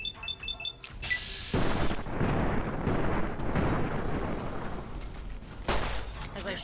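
Gunshot blast in a video game, a loud sharp report followed by a booming, rumbling burst that lingers for several seconds before a second hit near the end.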